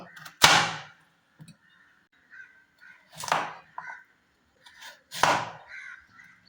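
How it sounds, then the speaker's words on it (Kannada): Three sharp, crisp knife chops through a carrot for a salad land a couple of seconds apart, close and loud, with faint handling clicks and scrapes in the quiet gaps between. "ಕ್ಯಾರೆಟ್ ಕಟ್ ಮಾಡಿ ತಗೊಳ್ಳುವ"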